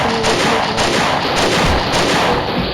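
Gunfire in the mobile game Mini Militia: loud, close bursts of rapid shots fired in quick succession, sharp and continuous across the few seconds.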